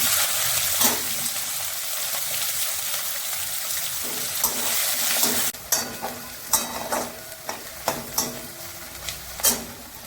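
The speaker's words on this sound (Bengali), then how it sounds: "এই সময় কুচনো পেঁয়াজটা দিয়ে দেবো।" Chopped onion drops into hot oil in a pan and fries with a loud, steady sizzle while it is stirred, and scraping strokes recur every second or so in a home kitchen.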